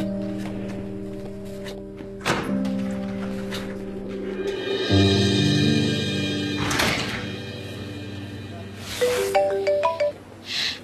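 A mobile phone ringtone plays a melodic electronic tune for several seconds in a Hindi drama scene, fairly loud and close, with a few thuds and shifting background noise.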